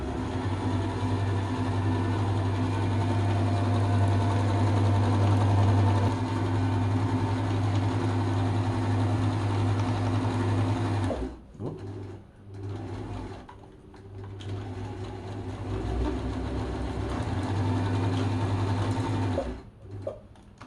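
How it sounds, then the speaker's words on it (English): A sewing machine runs a steady back stitch through caravan upholstery fabric during the fit-out of a 1978 Millard Mini Pop Top, humming continuously for about eleven seconds before breaking into shorter stop-start bursts. "we're just going to run it through the sewing machine."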